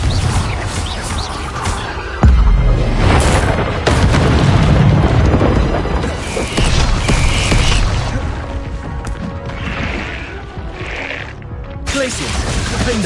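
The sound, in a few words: explosion from Confringo spell in Hogwarts Legacy video game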